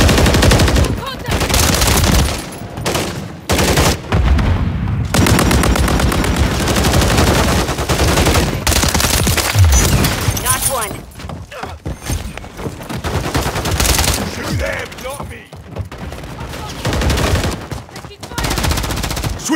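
Rapid bursts of automatic gunfire and single shots in Call of Duty Modern Warfare 3 multiplayer, loud and nearly continuous with brief pauses, some shouted in-game voice callouts mixed in.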